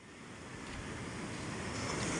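Sea surf washes steadily onto the shore in a broad, continuous rush that builds slightly in loudness, with wind and no voices.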